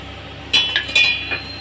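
A spoon clinks against a pan while lentils, tamarind and cumin are stirred and dry-roasted, making a few bright metallic taps and scrapes in a short cluster over a faint background hiss.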